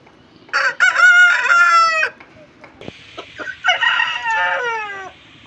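A fighting-breed rooster crows loudly twice in succession on a farm, each crow a long, strained harmonic call, with a short pause and faint clucking between them.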